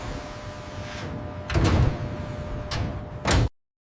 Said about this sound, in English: Internal weapons bay doors cycle through opening and closing sequences.